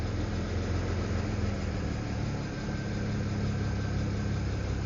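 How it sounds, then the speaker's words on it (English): A BMW N54 engine that has been sitting a while idles at its first start-up, a steady close rumble with a faint rhythmic lifter tick running underneath and a slight uneven misfire feel. "because it's been sitting for a while, that's just like lifter tick"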